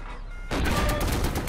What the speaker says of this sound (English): There's a guy in the barn, shoot machine gun in there if you can.